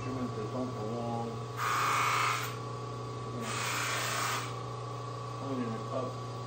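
Two separate bursts of harsh scrubbing, each about a second long, as tarnish is rubbed off a steel nail cutter instrument, set against a steady low electrical hum.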